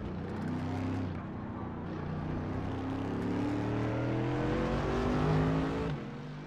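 Mercedes-AMG GT3 race car in iRacing accelerating toward the finish at Spa, a loud sustained engine drone with rising harmonic tones as it pulls through the gears, steady and close with no talk.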